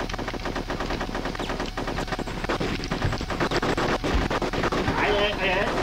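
Rapid machine-gun fire from the video game Conker's Bad Fur Day rattles in dense, continuous bursts, loud and close, while people talk over it.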